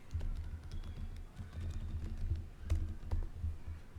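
Quiet, uneven tapping of keys on a computer keyboard while a name is typed into an online job application form, a run of soft clicks over faint room noise, with no talk.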